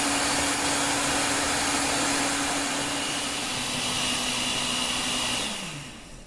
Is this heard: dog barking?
no